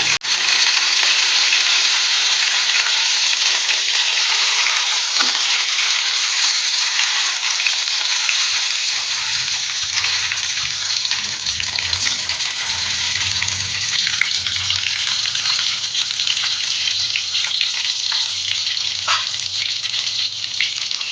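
Mackerel pieces fry in a pan under a loud, steady sizzle, with a brief scrape as the fish is turned partway through and a rumbling bubble beneath afterward, close and without voices.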